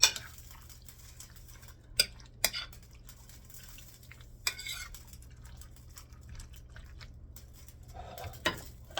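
Cucumber salad being tossed and mixed in a bowl, with soft clinks of utensils against the dish and wet stirring sounds, a few sharper taps standing out over a quiet background.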